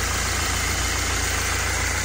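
A 2008 Mercedes Sprinter with a 2.2 turbo diesel idles, giving a steady, unbroken mechanical drone heard close up with nothing else in the mix.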